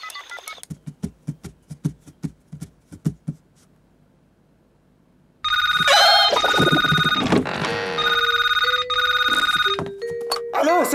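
A telephone rings in a cartoon comedy episode, a loud, steady electronic ring starting midway after a stretch of footsteps and quiet, with sustained bright tones and a few shifting beeps near the end.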